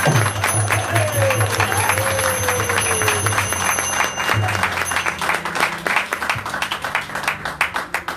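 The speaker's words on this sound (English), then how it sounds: "we're going to say a little thank you by giving them a tremendous round of applause" Audience at a kirtan gathering in Hamilton, Ontario giving a long round of applause, dense clapping with individual claps growing more distinct toward the end, while a held musical drone lingers beneath early on.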